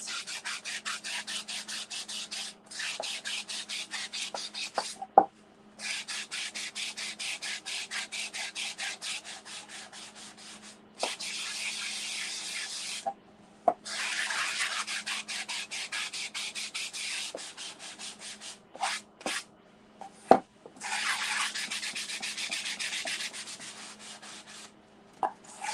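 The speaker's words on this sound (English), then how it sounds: "I am going to take my little sanding block" Small sanding block scrubbed over raised stencilled letters on a wooden board, repeated bursts of rapid back-and-forth rasping broken by short pauses and occasional taps, close and steady with no voices.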